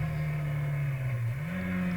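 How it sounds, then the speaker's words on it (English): 1970s Roadsports racing cars at Mallory Park, a steady loud engine drone holding one pitch before rising slightly, with no talk. "And a few more cars battling for position further back."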